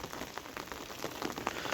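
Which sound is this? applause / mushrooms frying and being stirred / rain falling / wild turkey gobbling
rain falling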